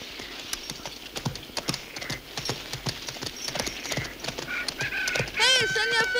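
Horse hooves clip-clop in a steady rhythm in an Italian western film dubbed in German, then a horse whinnies loudly near the end, with voices talking over the hoofbeats.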